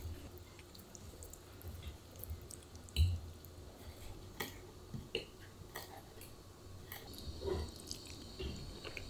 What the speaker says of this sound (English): Now let's go for the taste test of the guanciale.